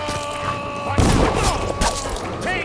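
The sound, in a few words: gunfire in the video game Dishonored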